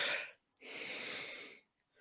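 A voice imitates someone breathing and exhaling hard through the nose, with a short huff followed by a longer, wheezy blast of breath, close and clear, with no words.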